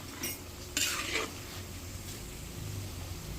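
Tofu and smoked fish go into a pan of sautéed mung beans: a few sharp clinks and scrapes of a utensil against the pot over a faint, low background sizzle.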